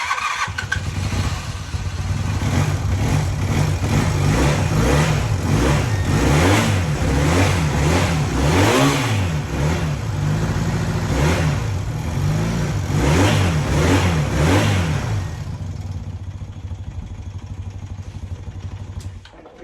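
A Honda Quicksilver motorcycle engine that sat unused for 37 years starts and revs repeatedly in rising and falling swells, loud and close, before settling toward idle near the end.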